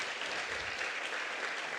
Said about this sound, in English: I hope they're here in the room and they can hear the applause.